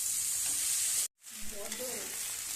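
Chicken momo filling frying in a pan with chopped tomato and coriander: a loud, continuous hiss of sizzling, briefly cut out for a moment, then resuming with stirring scrapes.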